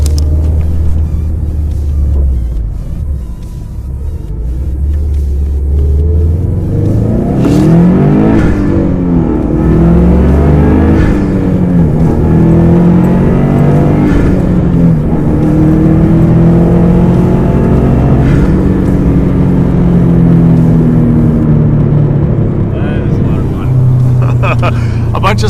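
A turbocharged 2006 Subaru STI engine with a stage 2 tune and COBB turboback exhaust rumbles low, then revs up hard through rising sweeps of pitch, loud and close, with a voice heard over it.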